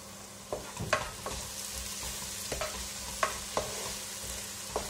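Onions and coriander powder sauté in hot oil for a Kerala-style egg curry, with a steady sizzle broken by several sharp scrapes and taps of a spoon stirring in the pan.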